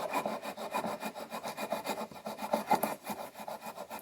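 Bushcraft bow-drill friction fire: a wooden spindle rubs rhythmically in a wooden socket and board, making loud, close, steady back-and-forth sawing strokes about four per second, with no voices.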